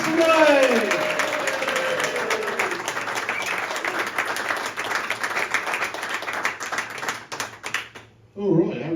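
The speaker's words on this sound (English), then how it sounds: "Get the clapping going. Get the cheering going." A pub audience claps and cheers for a comedian, a loud shout rising over dense applause that slowly thins into scattered claps before a voice speaks up near the end.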